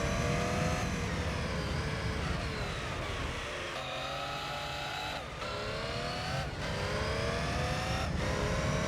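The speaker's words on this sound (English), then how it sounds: "I love how astronomically different this car sounds" A race car in Gran Turismo 3 revs hard through the gears, its engine whine climbing in repeated sweeps with brief drops at each shift. The sound is loud and continuous, with no talking.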